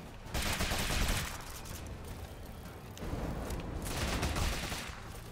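Rapid bursts of gunfire from a gun in the video game Rogue Legacy 2, two sustained volleys of fast shots separated by a brief lull, loud and steady.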